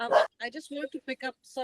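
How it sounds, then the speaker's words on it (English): A dog barks once, loud and close, followed by a person speaking in a conversational tone. "that's my dog barking"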